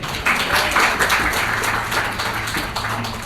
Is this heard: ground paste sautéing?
no